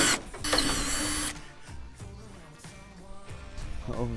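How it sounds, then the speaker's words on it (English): A power drill spins up loudly for about a second while drilling holes in a fibreglass bodykit, then gives way to quieter clunks, knocks and handling noises close by. "let's drill some holes"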